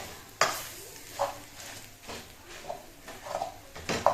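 Chicken mash sautéed in a pan while being stirred, with soft sizzling and a few scrapes and clinks of a utensil against the pan, close and quiet, with no talking.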